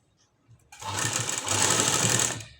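A sewing machine stitching buttonholes, starting with a few faint clicks before running in a loud, continuous mechanical whir close by, with a brief dip in the middle before resuming and tapering off.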